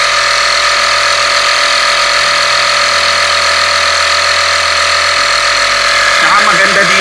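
A budget portable tire inflator compressor runs loudly and steadily with a constant buzzing drone, while people talk over it and the pitch shifts slightly near the end.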